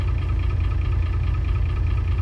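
Crawler excavator engine idling in cold weather, a steady low rumbling drone with constant vibration, close and even throughout with no voices.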